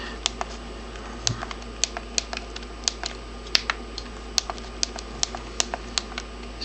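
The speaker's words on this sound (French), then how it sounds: "et là vous pouvez taper avec votre petit clavier" Taps on a small on-screen phone keyboard while writing a messenger message, sharp, light and irregularly spaced clicks against a quiet background, close by.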